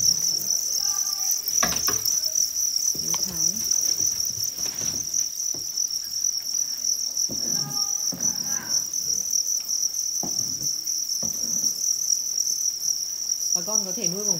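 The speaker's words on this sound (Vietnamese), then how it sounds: "Được rất nhiều dế." Steady, continuous chirping from many crickets in a breeding box with egg-carton trays fills the whole stretch, a dense high trill with faint scattered background noises underneath.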